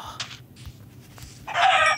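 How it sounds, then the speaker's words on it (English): A chicken in Minecraft gives short bursts of clucking, with a brief squawk early and a louder burst toward the end, separated by near silence. "Chicken."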